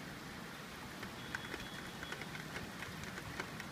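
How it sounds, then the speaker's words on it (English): Rain falls steadily during a summer thunderstorm in Chicago as the sun begins to break through, a soft continuous patter with scattered brighter drop hits, no voices. "So you can see the sun's coming out already, but it's still raining."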